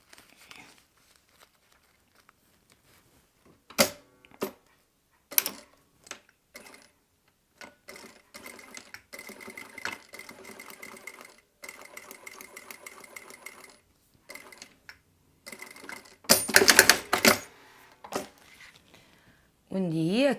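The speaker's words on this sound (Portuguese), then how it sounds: "coloquei alfinetes e vou unir costurando" A sewing machine stitches pinned fabric pieces of a passport wallet together in short whirring runs separated by pauses, with a longer, louder burst near the end.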